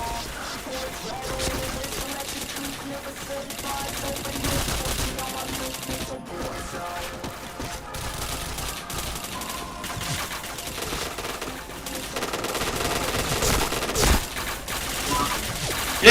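Video game gunfire comes in dense, continuous bursts of rapid shots and impacts, with game music and sound effects layered underneath.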